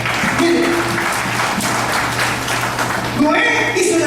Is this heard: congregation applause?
yes